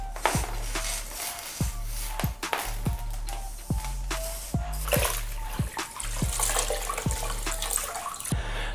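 Water spraying and splashing onto a muddy bicycle rack during an indoor clean in a small room, a continuous close rush broken by repeated knocks and clunks.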